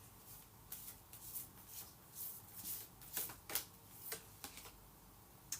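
Large tarot cards shuffled and pulled, a string of soft papery flicks and slaps at irregular intervals, close but quiet against a hushed room.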